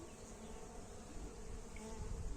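Honey bees buzz in a faint, steady drone over a beehive brood frame, a continuous low hum with no voices.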